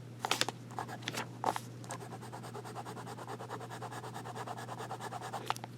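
A Visconti Blue Lagoon fountain pen with a smooth, wet nib scratches and glides across paper in quick, close strokes, soft and continuous with a few louder scrapes.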